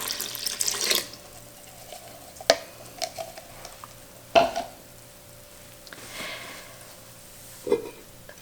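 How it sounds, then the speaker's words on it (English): Filtered water is poured into sourdough starters in a quiet kitchen, with a few short splashing pours and light clinks spaced across the quiet stretch. "to my starters I'm going to add 1 1/4 cups of filtered water."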